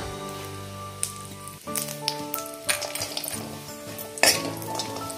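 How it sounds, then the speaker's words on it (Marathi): Dried dates (kharik) frying in a few spoons of ghee in a kadhai, a crackling sizzle with spoon scrapes and clinks against the pan, close and fairly quiet, alongside a steady background hum, with no talk. "खारीक फ्राय करूया."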